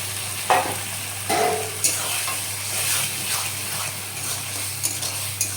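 Spattering sizzle of lote (Bombay duck) fish and tomatoes in a pan with several sharp scraping stirs of a spatula, fairly close and moderately loud, no voices.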